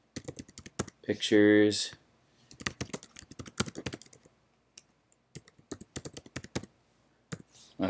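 Rapid clicking of keys on a computer keyboard as an email address is typed, in quick irregular bursts with pauses, close and clear, with a brief spoken word partway through.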